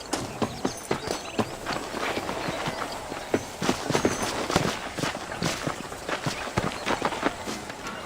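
Horse hooves clip-clop in a quick, steady running rhythm across dirt in the video game Red Dead Redemption, each strike crisp and close, continuing without talk for several seconds.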